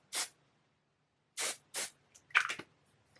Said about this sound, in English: I'm gonna spray my hair with some finishing spray